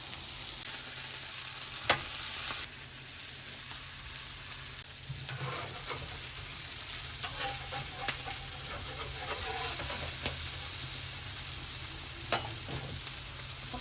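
Smash burgers fry on a hot griddle, a constant close sizzle with occasional sharp scrapes and clicks of a spatula, cooking two patties at a time, with no talk.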